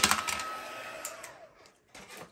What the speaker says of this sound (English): my cord is trapped and won't let me bring my heat tool over any farther